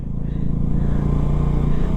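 A motorcycle engine drones steadily at close range while riding a winding zigzag mountain road between Kedarnath and Tungnath, a low continuous rumble with slight throttle variation and wind noise.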